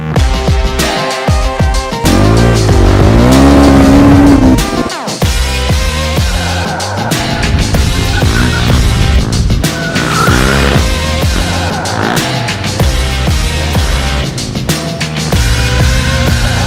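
A superbike drifting, with loud continuous engine roar and tire skidding and squeal close by for the whole stretch, plus some shifting pitch sweeps.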